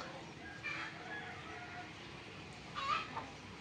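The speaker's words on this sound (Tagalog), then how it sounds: "So, galing sa aming Rhode Island ng mga manok." Faint clucking from a few Rhode Island Red hens over steady background noise, with two brief louder bursts of calls.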